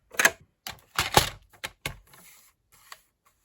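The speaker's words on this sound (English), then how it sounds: "So I'm going to have to get my trimmer for that." A paper trimmer slices paper for a gingerbread and peppermint mini album, a few crisp clicks and scraping cuts in quick irregular succession, close and fairly quiet with no one talking.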